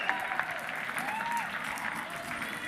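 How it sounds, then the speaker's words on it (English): Applause for tournament champions after a hockey championship game, a steady wash of clapping from a crowd in an arena, with a few sharper claps near the start and faint voices mixed in. "Big round of applause for these guys."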